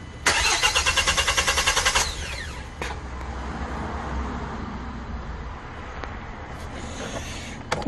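A 2020 Kia Bongo 3 with a badly misfiring engine and a fuel-line fault cranks and fails to start. A rapid, rhythmic starter churn runs for about two seconds and stops, then a low hum follows with a few clicks.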